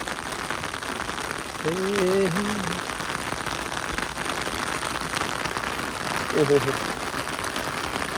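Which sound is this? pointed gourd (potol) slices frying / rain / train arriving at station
rain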